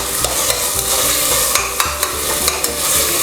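Ginger garlic paste and tomato sautéing in a pan for mutton white kurma, a loud continuous sizzle with rhythmic spatula scrapes and taps throughout, close up and without talk.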